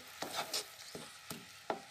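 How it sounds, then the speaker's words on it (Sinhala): Cooked apple pieces being mashed by hand for jam in a pot off the heat, giving several soft, separate squelching presses spaced irregularly, quiet and close, with no talking. "මේ කෑලි යන්න හොඳට පොඩි කරගන්නවා."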